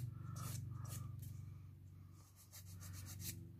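A nail file rubs back and forth across false fingernails in quick, soft, even strokes, faint and close, with a low steady hum beneath.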